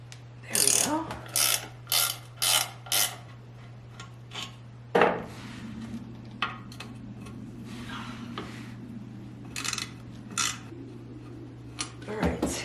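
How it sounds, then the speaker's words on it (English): A hand ratchet clicks in quick bursts of four or five strokes, close up, while bolts come out of an outboard boat motor's lower unit. A steady low hum runs underneath, and more ratcheting follows later. "now we're gonna remove the bolts holding the lower unit on"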